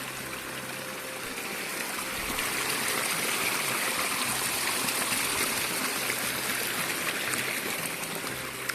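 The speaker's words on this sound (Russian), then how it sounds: "вот мы на святом источнике, там за одним бьет" Water from a holy spring pours and splashes steadily outdoors, a dense continuous rush that swells slightly after the first couple of seconds, with no voices.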